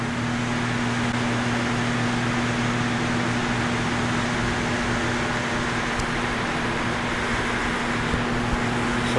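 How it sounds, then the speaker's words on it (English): An electric fan runs steadily and fairly loud, a constant broadband whoosh with a low motor hum throughout and no talking. "I don't know if you could hear me with this fan on"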